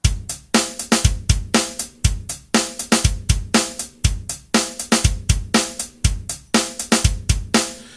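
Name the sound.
rock drum pattern with doubled bass drum on step 11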